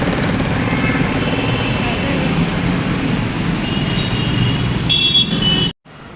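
Heavy traffic on Behala bypass road makes a dense, continuous roar of engines and tires, loud and close, with a voice speaking over it before it cuts off abruptly.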